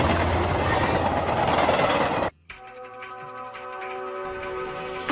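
An animated train with a malfunctioning control valve rumbles loudly, then after a brief silent cut gives way to a quieter rhythmic clickety-clack of wheels on rails with faint squeals, no voices.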